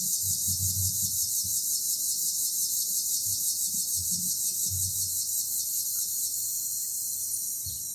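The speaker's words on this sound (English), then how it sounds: "I hate the sound of those bugs that make that noise." Steady outdoor insect buzzing, like cicadas or crickets in hot weather, fills the clip as a continuous high drone, with some faint low thumps underneath.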